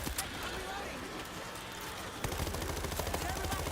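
Rapid bursts of gunfire in the video game World War Z rattle continuously, shifting to a faster, harder automatic rhythm partway through, with voices talking over the shooting.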